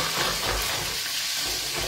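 Tonnarelli pasta with wild broccoli sautés in a frying pan, giving a steady, even sizzle and hiss throughout with no talk.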